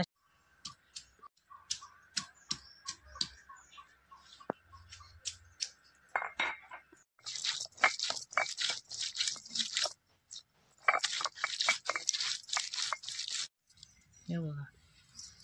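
Crab legs crushed and ground on a stone slab, a Malvani village kitchen crab curry preparation, heard as sharp crunching and squishing strokes in a steady rhythm, growing denser and louder toward the end, close by.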